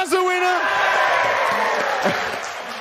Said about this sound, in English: Now make some noise if you think this dad's the winner.